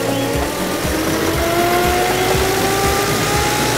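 A 1929 Dennis G-type fire engine drives off in second gear, its unsynchronised gearbox whining as the engine pulls steadily and rises in pitch, loud and close.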